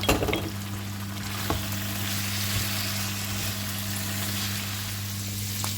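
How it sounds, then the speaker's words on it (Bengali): Shrimp seasoned with salt and pepper fry in a pan with a continuous close sizzle over a steady low kitchen hum, a few faint clicks from handling. "আমি একটু সল্ট পেপার দিয়ে চিংড়ি মাছটা একটু ভেজে নেই হালকা"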